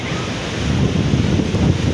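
Small sea waves washing onto a beach, a broad, steady rush that swells slightly, mixed with gusts of wind buffeting the microphone; no one speaks.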